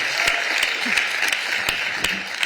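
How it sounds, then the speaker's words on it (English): An audience at the Seattle mayor's State of the City address applauds, steady and close, with a few louder claps standing out. "You should have held your applause"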